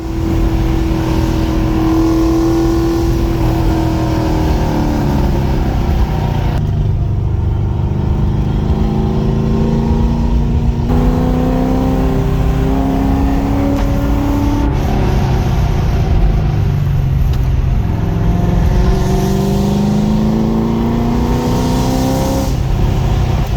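Nick's Corvette lapping a race track at a Blackhawk Farms track day in a line of other cars, engine loud and close with repeated rising revs and shifts, steady roar throughout, no talk.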